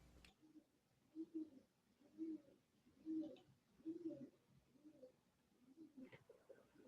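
A pigeon coos in a steady repeated rhythm, about half a dozen soft low calls fairly close by, with faint background noise during an online class.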